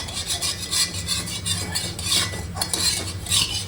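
Ice cubes scraped and rubbed around inside a burnt cooking pot on a gas stove, a steady gritty rasping with rhythmic strokes close up.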